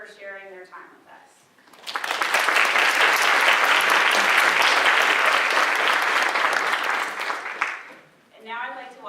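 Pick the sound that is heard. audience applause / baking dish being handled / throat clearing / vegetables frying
audience applause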